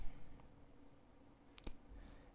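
Computer mouse clicks while working in Power BI: a quick pair of faint, sharp clicks in a quiet room.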